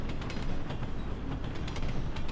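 A train moves past as a steady, faint broadband rumble with rhythmic clacks of wheels on track running throughout, no voices.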